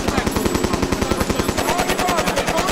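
A rifle fires in an urban street confrontation during unrest in Dallas: a loud, close burst of rapid, evenly spaced shots, about a dozen per second, running without a break, with faint voices underneath.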